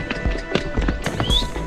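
Horse hooves clip-clop on a mountain trail at Sonamarg in Kashmir, with a quick run of close, distinct hoof strikes and a brief whinny-like squeal near the end.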